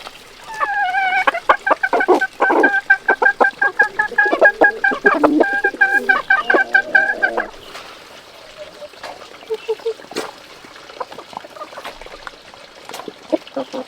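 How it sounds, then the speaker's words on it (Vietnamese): Rooster clucking and calling in a rhythmic run of bursts near the mic, then fading into quieter scattered sounds from the fowl, with people talking nearby. "con gà trống này đẹp nhỉ anh nhỉ?"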